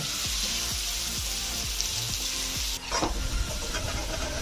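Cauliflower and capsicum frying in a pan, with a steady loud sizzle of hot oil punctuated by regular stirring scrapes of a spoon, then a brief louder splash of sizzling near the end.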